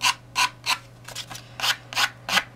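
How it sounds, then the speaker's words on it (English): Repeated rough scraping strokes, about seven in a steady rhythm, sound close by as scissors blades rasp along paper edges to rough them up. "Just gonna rough up these edges here with my scissors."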